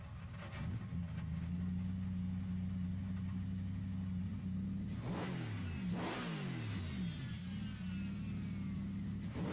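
A car engine in the Gran Turismo Sport racing game on PS4 drones steadily, then revs and shifts through rising and falling pitch sweeps midway before settling back to a steady hum, moderately quiet with no talk.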